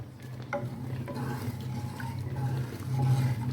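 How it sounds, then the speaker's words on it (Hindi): Sugar being stirred until it dissolves in a pan for shahi tukray, a continuous soft swirling and scraping with a faint liquid sizzle underneath, close and steady for a few seconds. "इसे हम अच्छे से चीनी को डिज़ोल्व करेंगे"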